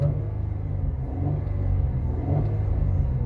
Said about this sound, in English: But if I rev my engine right now,